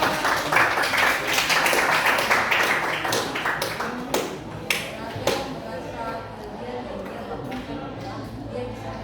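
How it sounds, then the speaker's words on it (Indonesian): Classroom applause from students at a junior high school guidance session in Aimas, Sorong, a burst of clapping that thins into scattered claps and fades, with a voice speaking afterward. "Oke, kita berikan tepuk tangan."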